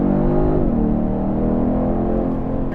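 A 2022 Genesis G70 3.3 Turbo sports sedan accelerates in Sport Plus mode, its engine a loud, continuous close drone that rises and settles in pitch as it pulls through the gear.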